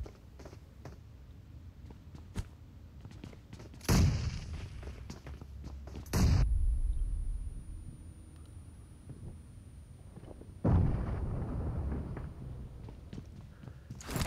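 Grenade blasts from a PUBG Mobile match, a few sharp booming bursts spaced apart around four, six and eleven seconds, each with a rumbling tail over quieter background game noise and soft footsteps.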